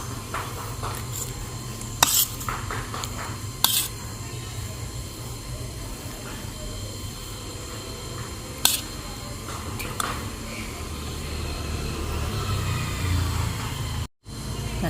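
A gunda pickle mixture with turmeric and salt being stirred by hand in a bowl. Occasional sharp clinks of a spoon against the vessel sound over soft, continuous scraping and shuffling, fairly quiet and close.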